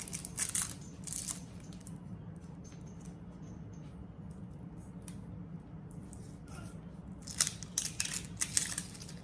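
Food being cut with a knife while cooking soul food, heard as scraping, crunching cuts in bursts at the start and again near the end, with a steady low hum between them.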